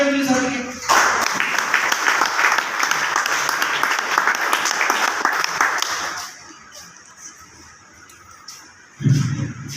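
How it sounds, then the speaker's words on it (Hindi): An audience at a business seminar claps together in a loud, dense burst for several seconds, then the applause fades to scattered claps, and a voice speaks near the end. "ताली हो जाएगी सर के लिए।"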